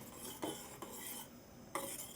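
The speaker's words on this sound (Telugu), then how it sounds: "ఇవి పొంగిపోతాయి కాబట్టి దగ్గరుండి వీటిని కలుపుతూనే ఉండాలి" A spoon stirs flaxseed in a pot on the stove, a quiet steady scraping broken by a few clinks of metal against the pot's side.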